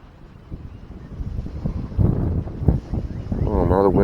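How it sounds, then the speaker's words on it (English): Wind blowing across a lake bank during bass fishing, a rising broadband rush buffeting the microphone that grows louder toward the end, with a faint voice partly under it. "The wind is picking up."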